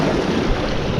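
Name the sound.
sea waves splashing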